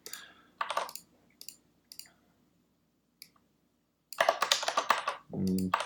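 Typing on a Kinesis Advantage 2 ergonomic keyboard: sparse bursts of clicky keystrokes, then a denser run of rapid key presses near the end, close and fairly quiet, with a brief voice at the very end.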